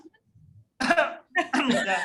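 A short burst of coughing, two rough bursts close together, preceded by a faint murmur.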